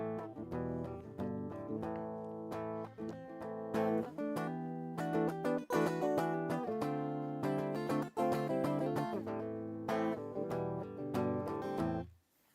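A-shaped barre chords strummed on guitar, with hammer-ons and shifts between minor and minor 7 voicings, ringing close and steady for about twelve seconds before a sudden stop.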